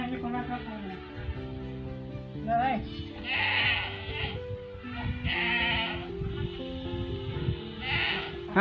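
Goats bleat several times in wavering, nasal cries, a few seconds apart, over a steady background, in a small tribal village among green hills.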